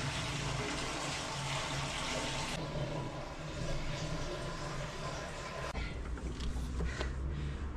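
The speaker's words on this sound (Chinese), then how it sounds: "现在只差把这个水桶的水给装满就好" Water pouring into a bucket in a camper van being readied for a trip, a steady gushing fill with a brief shift in tone partway through, close by and moderately loud.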